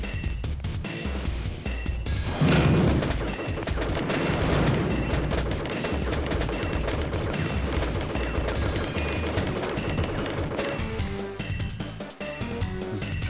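Heavy cannon fire from a trooper in the game Crusader: No Remorse: a dense, sustained barrage of loud blasts and rattling shots rolls continuously for over ten seconds amid game music, then breaks off near the end.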